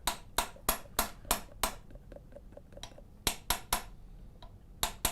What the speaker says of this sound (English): For this one, it's a hammer adjustment.